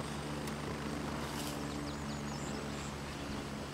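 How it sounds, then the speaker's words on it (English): A helicopter in the video game Gray Zone Warfare gives off a steady, distant rotor drone with a low engine hum, faint and continuous. "Enemy chopper just landed at India too."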